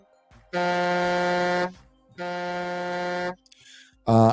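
Two long, loud blasts of an air horn honk effect, each about a second, with a brief third burst starting at the end, played as a livestream donation alert.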